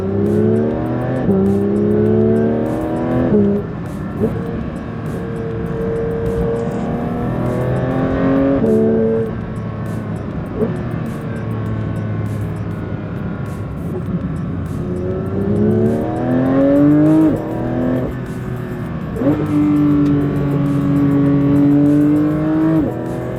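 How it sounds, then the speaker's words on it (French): A Porsche 992 GT3's flat-six engine revs repeatedly, pitch climbing and dropping in several loud surges, with a deep throaty growl throughout. "La sonorité du Flat 6 est légendaire."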